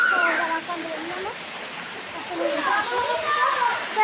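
Rushing water at a waterfall fills the background while children shout and chatter excitedly close by, their voices rising and falling over the steady flow.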